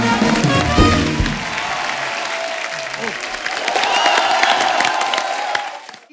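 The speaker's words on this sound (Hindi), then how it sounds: "एक बार जोरदार तालियां हमारे शाख्स के लिए आइए सर।" Studio audience at a comedy show breaks into sustained loud applause with some cheering, starting under a brief voice and swelling again toward the end before cutting off.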